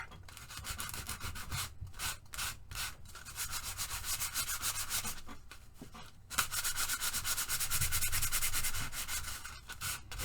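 Scuffing a surface with sandpaper: quick back-and-forth rubbing strokes in bursts with short pauses, close and fairly quiet, with no talking.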